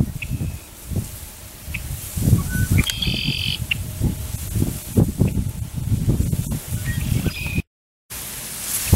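Baby robins chirp in short, repeated high calls from a low grassy nest beside a farm pond, over steady outdoor rustle and background noise.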